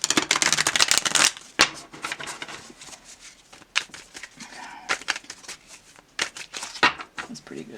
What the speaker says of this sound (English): but some of it's from shuffling them.